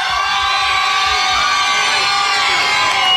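A live club crowd at a 1996 Houston radio broadcast event roars continuously, with loud sustained cheering, whoops and shouts blending into a dense wall of noise.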